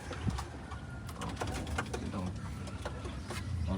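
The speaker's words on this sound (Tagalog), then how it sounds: "Abang tayo ng ibon natin sa Piodoran Albay." Racing pigeons arrive at a loft at the end of a 292 km derby race from Pio Duran, Albay, cooing softly under a dense, noisy outdoor background, with some voices talking.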